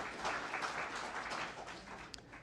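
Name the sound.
audience applause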